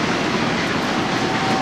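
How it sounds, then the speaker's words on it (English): Train passing close by a country rugby ground in Parkes, New South Wales, a steady, loud rumbling roar that fills the whole stretch without letup. "As the train goes whistling past."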